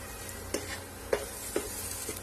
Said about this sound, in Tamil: தேங்காய் இதுல சேர்த்தி ஒரு கிளறி அரைக்கிற வேண்டியதான்